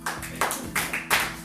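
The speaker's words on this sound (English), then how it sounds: "Clap for me, boy." Audience members clap at a seminar, a handful of distinct, uneven claps in short bursts, fairly near and moderate in volume, with no talk.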